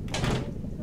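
A door opening in the video game Deus Ex: Mankind Divided, a short mechanical slide with a soft whoosh, heard close and under a low game ambience.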